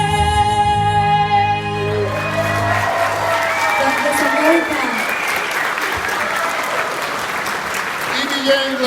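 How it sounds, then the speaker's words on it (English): A large audience at an awards gala bursts into loud, sustained applause and cheering after a sung national anthem, with a held sung note fading at the start and crowd noise continuing throughout. "give it up for Evie Yang. Big round of applause"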